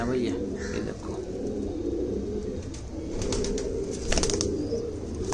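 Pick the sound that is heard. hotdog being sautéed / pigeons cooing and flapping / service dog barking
pigeons cooing and flapping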